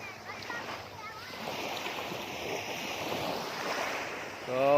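Sea waves washing against the shore of Sibali Island beside a small boat, a steady broad surf wash with wind buffeting the microphone, swelling louder at the end.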